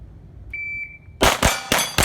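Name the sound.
gunshots hitting steel targets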